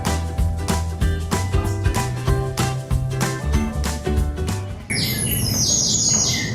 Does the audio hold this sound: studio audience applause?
no